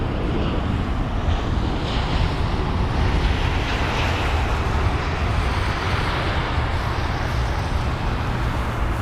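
Airbus A320-200 with Sharklets touching down at London Heathrow, a broad steady roar of jet engines and rushing air heard from a distance, continuous and even throughout.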